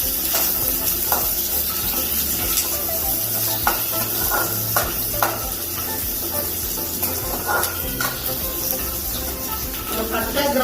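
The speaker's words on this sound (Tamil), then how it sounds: "சின்ன வெங்காயம் ஒரு கால் கப். வெங்காயம் வந்து நல்லா வதங்கணும்." Small onions sauté in a pan for chicken curry, a steady sizzle broken by repeated scrapes and stirs of a spatula, close and continuous, with no talking.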